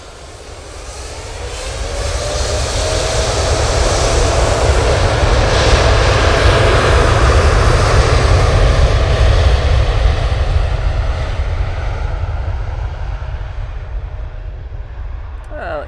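A Qatar Airways jet takes off at Manchester Airport, its engine roar swelling over the first few seconds into a loud, sustained rumble that holds steady and only begins to ease at the end.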